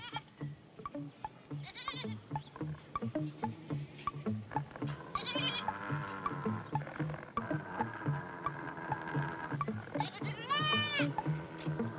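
Sheep bleat repeatedly as a sheepdog in New Zealand herds them close, wavering calls overlapping near and far, some long and drawn out, with someone speaking at times.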